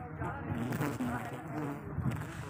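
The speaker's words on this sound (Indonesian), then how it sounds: "Ini tawon das nih guys, kalau bahasa kampung kami." A wasp flies close by while honey is harvested from a wild bee tree in Riau, giving a steady droning buzz that wavers in pitch over rustling background noise.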